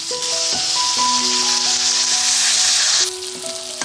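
Tomatoes hit hot oil in a pan for chicken karahi and set off a loud, steady sizzle and crackle. Sustained tonal hums run alongside, and the frying eases slightly near the end.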